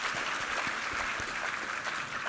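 A church congregation applauds during a Sunday worship service after a baritone's hymn, a dense, steady wash of many hands clapping close by, filling the whole moment without pause.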